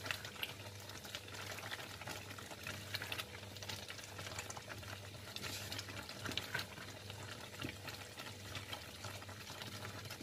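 Sugar-coated peanuts are stirred in a pan as they cook, a steady soft scraping and rattling with a low simmering hiss throughout, faint and continuous.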